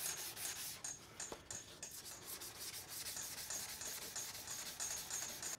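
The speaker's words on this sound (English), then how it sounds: "you want to sand the entire area down, not just dig into that little hole. Just let the block go down into the layers of the primer" A sanding block scrubs over primer on a car bumper in a home garage, quiet rhythmic back-and-forth rasping strokes close by, no speech.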